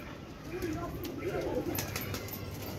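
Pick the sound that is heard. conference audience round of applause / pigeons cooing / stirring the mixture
pigeons cooing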